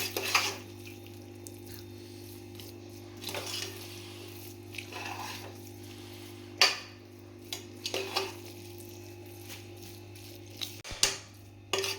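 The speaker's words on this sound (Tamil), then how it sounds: "நல்லா நெய் போட்டு இப்படி கலக்கிட்டு" Chicken biryani being stirred in a pot with ghee, with soft intermittent scraping and clinks of a utensil against the pot over a steady low hum, no voices.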